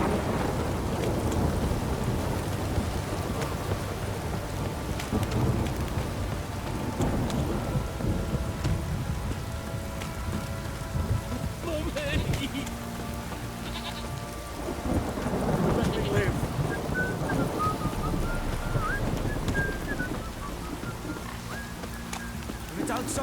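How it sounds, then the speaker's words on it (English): Heavy rain pours during a thunderstorm in the video game Witcher 3, with a dense constant roar of rainfall and low rumbling thunder; brief voices surface faintly beneath the storm. "If it don't stop raining, my arse will rot off."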